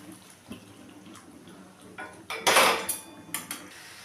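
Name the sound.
hot water poured into fish curry pan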